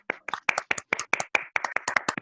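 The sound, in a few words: applause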